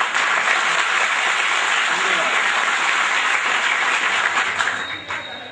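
A school event audience claps in a loud, sustained burst, dense and even, before the applause begins to fade away near the end.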